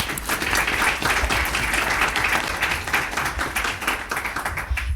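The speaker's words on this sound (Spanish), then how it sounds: "Un aplauso." An audience at an evening discussion forum on Bolivia's runoff election applauds steadily, a dense wash of many hands clapping at close range, with a faint voice underneath.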